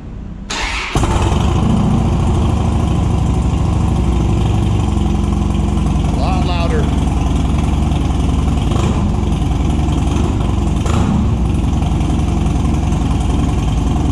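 A Harley-Davidson Dyna motorcycle with Bassani Road Rage 3 exhaust, baffle packing removed, cranks and fires up, then settles into a loud, steady, rumbling idle close by, with no talking.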